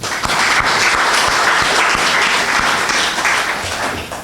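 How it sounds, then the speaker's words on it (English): Applause from a temple congregation at a Buddhist dharma service, loud and dense, with sharp individual claps standing out, steady for about four seconds and easing slightly at the end. "Another applause, please."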